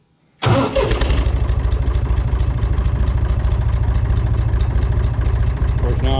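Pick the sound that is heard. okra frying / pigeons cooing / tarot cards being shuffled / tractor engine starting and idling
tractor engine starting and idling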